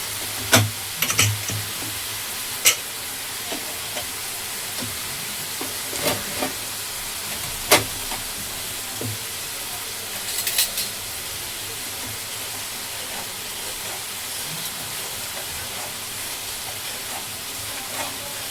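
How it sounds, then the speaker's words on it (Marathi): Marinated chicken cooks in a pan over low gas, giving a steady soft sizzle and hiss throughout, broken by occasional sharp clinks and stirring knocks, with no talking. "त्याच्यानंतर मग मी मॅरिनेट केलेलं चिकन टाकेन. बस एवढंच करायचं आणि जरा 10 मिनटं शिजत ठेवायचं स्लो गॅसवर."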